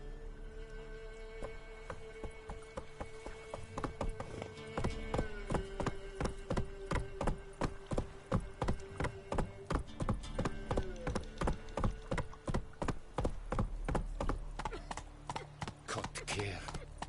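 Roach, the horse in the video game Witcher 3, galloping with a steady rhythmic clip-clop of hooves that starts a few seconds in and runs on continuously over a low background tone.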